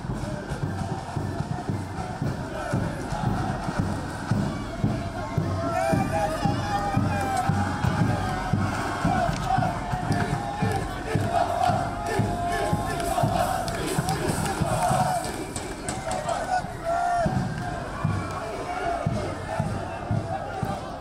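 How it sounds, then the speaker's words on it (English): A rowdy crowd at an Orange parade in Northern Ireland sends up continuous shouting and jeering with rapid rhythmic thumps underneath, dense and loud throughout, mixed with voices. "The crowd's getting rowdier."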